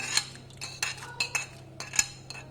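Chopped carrots go into a pot of chicken stock for soup, heard as a series of light metallic clinks and taps of a spoon against the pot, spaced irregularly, close and fairly quiet.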